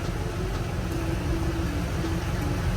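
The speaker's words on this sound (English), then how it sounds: "it's got the 1 3/4 speed engineering headers, and it's got a 3-inch off-road Y pipe with a stock cat back" An F-Body Camaro with 1 3/4-inch headers, a 3-inch off-road Y pipe and a stock cat-back idles steadily nearby, a continuous deep rumble with no voices.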